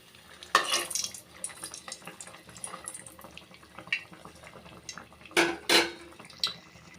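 A spatula clatters against a frying pan as banana malpua, a fried wheat-flour sweet, is flipped. Two sharp metallic knocks stand out above a soft, steady background hiss.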